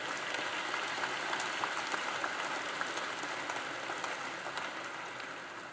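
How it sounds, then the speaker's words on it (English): Steady, dense applause from a large audience at a youth sports awards benefit, sustained evenly throughout with no voices on top. "a round of applause for all involved and all that PCA does"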